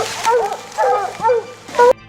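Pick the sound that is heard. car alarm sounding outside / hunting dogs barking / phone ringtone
hunting dogs barking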